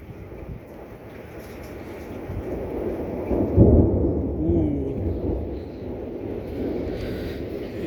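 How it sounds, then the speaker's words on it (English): Thunder during a heavy thunderstorm over Reno, Nevada rolls in as a deep rumble that swells and lingers, echoing off the surrounding mountains under steady rain. "You can hear the thunder echoing because of there's mountains, so it echoes through the entire city of Reno."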